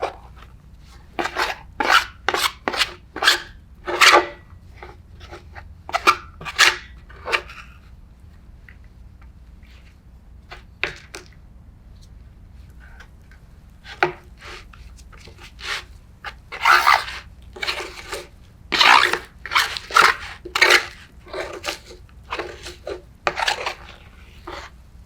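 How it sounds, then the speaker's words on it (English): Cornstarch being stirred into water in a bowl, a run of scraping, rasping strokes in irregular bursts, close and fairly loud, with pauses between flurries. "once I stir that in, that ought to firm things up a bit"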